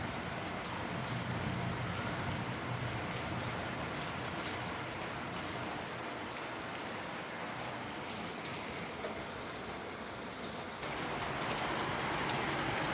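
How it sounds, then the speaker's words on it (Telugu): Steady rain falls outdoors at a temple, a dense, even hiss of drops on surfaces that holds at a constant level throughout, with no voices. "మరి వర్షం అయితే పడుతుంది."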